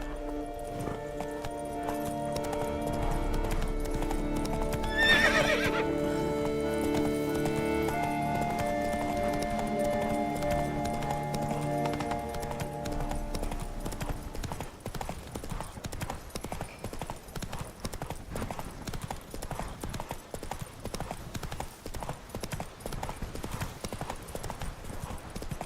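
Roach the horse galloping in The Witcher 3: Wild Hunt, steady rhythmic hoofbeats with a brief whinny near the start over a sustained musical drone that fades out, leaving the quicker clip-clop running on alone.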